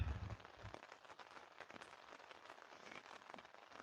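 Steady rain patters on a campsite tent along a mountain trail, a dense continuous hiss of drops on fabric with a brief low thump at the start, close and fairly quiet throughout.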